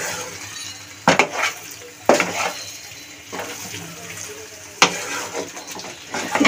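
Spatula stirring prawns with Malabar spinach in a pan, with a few sharp scraping clacks spaced a couple of seconds apart over a soft, steady sizzle, close and fairly loud.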